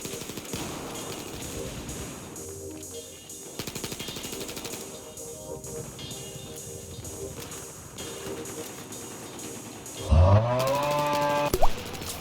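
A suppressed carbine in Battlefield 4 fires repeated short bursts, muffled clustered pops separated by brief gaps, with a louder sharper burst of effects near the end.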